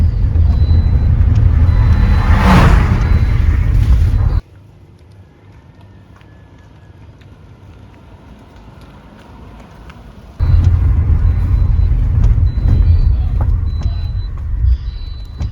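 A shared taxi car driving, its engine and road rumble loud and steady, dropping to a quiet cabin hum for several seconds before the louder drive noise returns.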